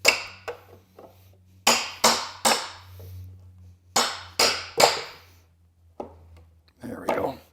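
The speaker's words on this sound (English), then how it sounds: "what I was doing with the hammer is tapping on the cat's paw to help seat it on the nail" Sharp metallic taps of a hammer on a cat's paw pry bar seating it on a nail in pallet wood come in uneven bursts, several quick strikes grouped together and then pauses, close by over a low steady hum.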